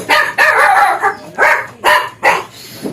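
Young puppy barking, a series of five or six sharp, fairly high yaps in an uneven rhythm, close and loud, with no talking.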